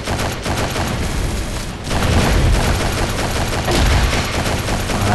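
Sustained automatic fire from a Lewis Gun machine gun in the shooter game CrossFire Mobile, loud and dense bursts of rapid shots that continue throughout with a brief dip before resuming even heavier.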